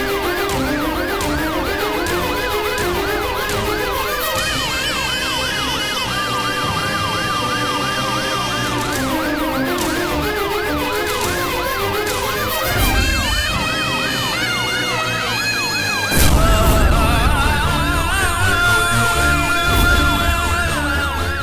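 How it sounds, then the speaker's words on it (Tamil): An ambulance siren wails loudly and continuously as the vehicle arrives, its rising and falling tones overlapping with other siren patterns and swelling near the end. "ஆம்புலன்ஸ் வந்துருச்சு சார்"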